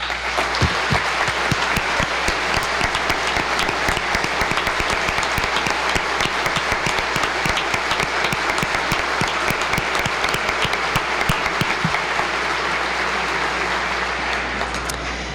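A large audience gives loud, sustained applause during the Michigan governor's State of the State address. Dense clapping with crisp individual claps runs for about fifteen seconds and tapers off slightly at the very end.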